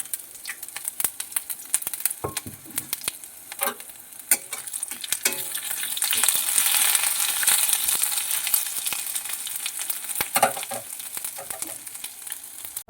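Dry ginger and whole tempering spices fry in hot oil with dried red chilies, a crackling sizzle that swells midway, broken by sharp spattering pops and stirring clicks, with no talk.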